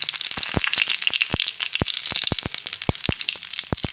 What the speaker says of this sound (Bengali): কড়াইতে পরিমাণ মতন সর্ষের তেল দিলাম জিরে ফোড়ন দিলাম তেজপাতা দিলাম শুকনো লঙ্কা দিলাম